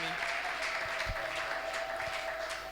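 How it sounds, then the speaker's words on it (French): A church congregation applauds after a Bible reading with steady, sustained clapping that sounds somewhat distant and soft. "Est-ce que nous pouvons acclamer pour la lecture de la parole de Dieu?"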